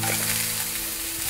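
Finely chopped ginger and coconut sautéing in a pan for chutney, a brief steady sizzle heard close with a faint low hum beneath and no talking.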